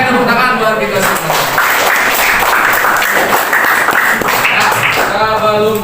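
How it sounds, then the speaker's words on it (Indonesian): Classroom of pupils clapping hands together in an Indonesian primary lesson, a loud, close, continuous burst of many hands with children's voices mixed in, lasting several seconds. "Tepuk tangan buat kita semua."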